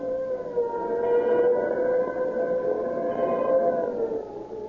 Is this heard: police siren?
yes